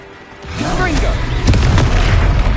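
A Confringo blasting curse explodes with a deep booming burst in a wizard video game, a heavy low rumble swelling and sustaining as a voice talks over the blasts.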